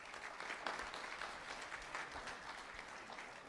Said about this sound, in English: Let's have a round of applause for Yamilet.